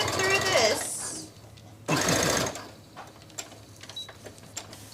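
Sewing machine stitching armor with a worn needle, running in two short loud bursts separated by quieter pauses, close by, with people talking in the background.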